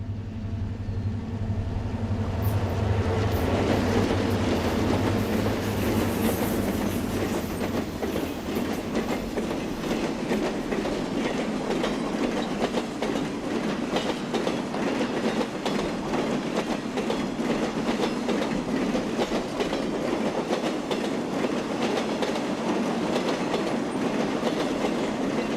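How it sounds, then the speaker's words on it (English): The westbound City of Los Angeles, train number 103, rolls through Wasatch, Utah, a loud, continuous passing roar with rhythmic wheel clatter and rail noise that holds steady throughout, with no voices. "The westbound City of Los Angeles, train number 103, runs through Wasatch, Utah."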